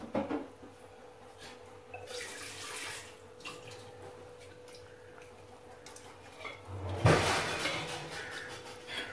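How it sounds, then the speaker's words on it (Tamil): Water pours into a pot, running and splashing steadily for several seconds, with a louder gush near the end, close by and without any talking. "இன்னும் கொஞ்சம் தண்ணி ஊற்றிக்கலாம்."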